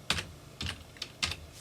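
Computer keyboard typing with five separate, evenly spaced key presses, each a crisp click, fairly close and alone with no talk.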